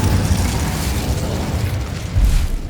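A fiery Incendio spell bursts in Hogwarts Legacy, a loud, dense roaring whoosh that holds steady for a few seconds with a brief swell near the end.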